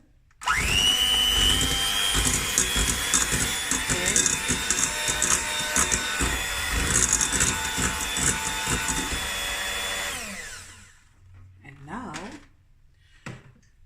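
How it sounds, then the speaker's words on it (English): Electric hand mixer beating softened butter for butter biscuits: a loud, steady whirring drone with rattling beaters for about ten seconds, then it cuts off, leaving a few faint clicks and handling noises. "now what I'm going to do is I'm going to loosen it with my mixer"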